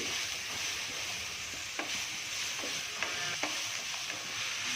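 Grated raw mango sautéed in a pan gives a soft continuous sizzle, with a few scattered spatula scrapes and taps spread across it and no one talking.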